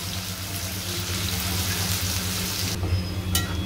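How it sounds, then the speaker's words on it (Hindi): Finely chopped onions fry in a pan with cumin, making a continuous near sizzle with a watery hiss, steady and fairly loud, and no voices. "अब प्याज को भून लेंगे हम।"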